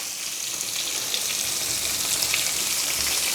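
Potatoes frying in a pan, a steady bright sizzle and crackle holding evenly throughout, close and fairly loud with no talking.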